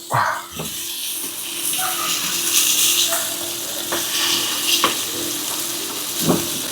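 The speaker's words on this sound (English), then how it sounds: "I'm frying down some sausage" Steady sizzling and crackling of sausages frying in a pan, with occasional clinks and faint voices in the background.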